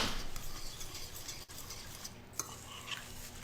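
Whole oatmeal stirred in a pot with a spoon, quiet scraping and soft clinks with a faint sizzle, heard close and low in level without speech.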